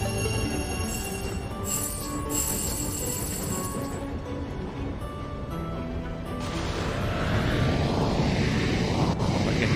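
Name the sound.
plane flying past in the video game Tiny Rails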